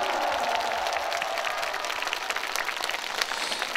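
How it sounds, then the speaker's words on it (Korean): Applause from a large outdoor crowd at a 2022 Jeollanam-do provincial sports festival concert, dense steady clapping filling the whole stretch, loud and close, with no talking over it. "다 함께 마음을 모아서 60일의 전라남도 체육대회를 위해 한번 박수 한번 치도록 할게요"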